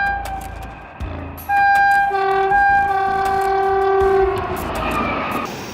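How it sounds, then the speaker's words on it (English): A train horn blares in long steady blasts, loud and close, with several held tones layered over the rumble of the passing train and a faint clatter beneath. "When you hear the train's horn"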